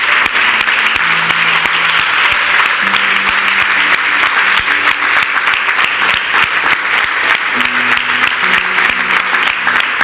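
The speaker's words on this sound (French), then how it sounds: "Acclame pour Jésus" A church congregation at a Sunday service applauds continuously, dense loud clapping filling the room with a few murmured voices and tones underneath.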